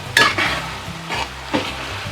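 Half-cooked onions for a Kerala-style beef curry fry in a pan, with a soft sizzle under a few distinct stirring scrapes, heard up close.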